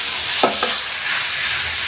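Onion and carrot frying in a pan for Indo-Chinese paneer noodles, with a steady faint sizzle and two short scraping stirs near the start.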